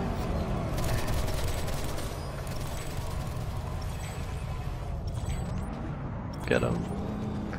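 Mosquito aircraft gunfire in PlanetSide 2 at Indar Bay Point, a steady roar of rapid automatic shots forming a continuous rattling barrage, with one louder whooshing burst near the end.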